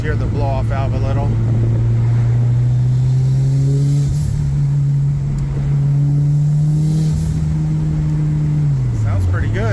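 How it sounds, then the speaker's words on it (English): A Subaru with a turbo running a 3.5 bar MAP sensor is driven on the street, its engine droning steadily and rising in pitch before dropping near the end, with a brief whooshing release from the blow-off valve. "let's see if we could just hear the blow-off valve a little"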